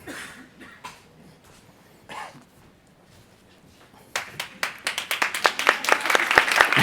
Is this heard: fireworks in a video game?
no